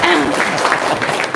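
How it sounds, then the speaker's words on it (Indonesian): An audience breaks into a short burst of applause, dense steady clapping with a voice speaking over the start. "Tepuk tangan dulu dong."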